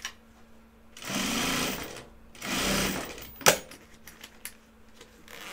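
A sewing machine stitching fabric for a sample sale runs in two steady loud bursts of rapid mechanical whirring, followed by a sharp clack and a scatter of small clicks and handling noises.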